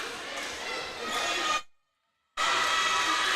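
Loud crowd noise fills a gym during a girls varsity basketball championship game, a dense roar that drops out for under a second and then resumes.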